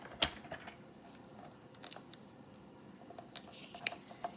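Scissors cut through card stock for a handmade card, producing faint, close snips and crisp clicks at the start and near the end, with quiet handling between.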